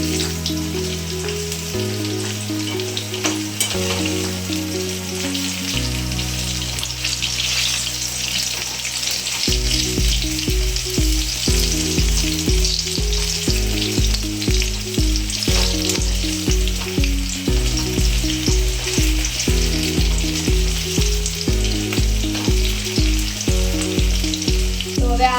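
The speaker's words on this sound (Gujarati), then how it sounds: "હવે આ મરચાની પટ્ટીને ધીરે ધીરે હલાવતું રહેવાનું." Chili pepper strips fry with a steady loud sizzle in a pan of oil for Gujarati methi dhana bhajiya, stirred slowly throughout, with soft scraping under the continuous crackle and no talk.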